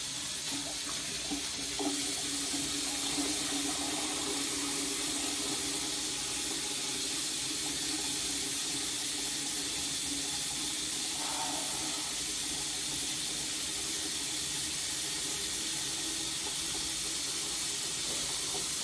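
Hot water runs steadily from a tap into a sink, a continuous broad rushing hiss that stays close and even throughout with no voices.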